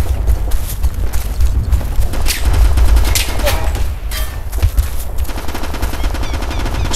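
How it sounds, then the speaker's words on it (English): Loud, close automatic gunfire in the military shooter Operation Flashpoint: Red River, with rapid machine-gun bursts and overlapping shots in a dense, continuous firefight, while voices call out over the shooting. "This is Alpha Team! We're under fire!"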